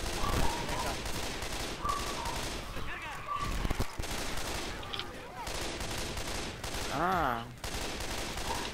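Rapid gunfire in the zombie shooter Left 4 Dead 2 rattling almost continuously in dense bursts, with a player talking over it.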